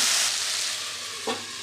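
Young flat bean seeds frying and being stirred in a pan, a steady soft sizzle with one brief scraping stir near the end, close and alone.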